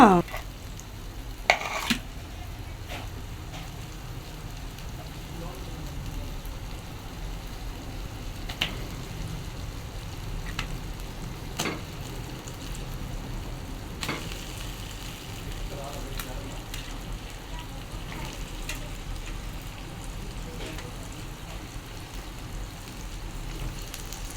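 Washed mutton sizzles in a hot frying pan, a steady low crackle and hiss with occasional sharper pops and stirring clatters, close and moderately loud throughout.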